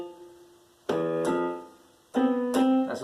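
Piano playing half-step intervals on the white keys, two separate pairs of notes struck clearly and alone, each new note ringing out with a sustained, bright tone.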